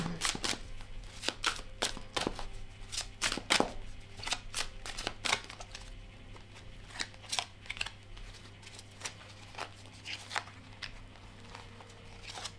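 Tarot cards are shuffled and drawn up close, producing a steady run of crisp riffling flicks and soft snaps, busier in the first half and sparser later, over a low steady hum with no talking.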